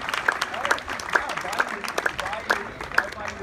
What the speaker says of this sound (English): Let's have another round of applause for these gentlemen